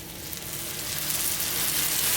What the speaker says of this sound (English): One of my favorite parts of this cook is that sizzle.